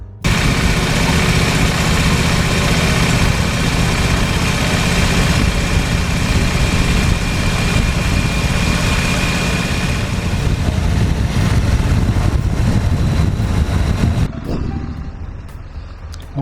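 Motorcycle engine on a touring ride, a loud, continuous roar mixed with wind rush that stays steady and then drops away sharply near the end.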